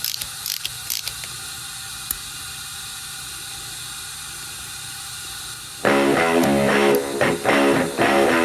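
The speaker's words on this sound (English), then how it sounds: "I run some compressed air, and it will hold the valve while I compress the springs." Compressed air fed through a spark plug hole fitting on a truck engine during cam prep, a steady faint hiss with a few clicks, then louder metallic ratcheting and mechanical clatter from the spring compressor tool near the end.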